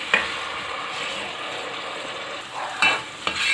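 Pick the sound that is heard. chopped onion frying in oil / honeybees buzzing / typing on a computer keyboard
chopped onion frying in oil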